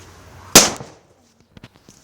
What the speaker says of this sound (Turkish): Torpil patladı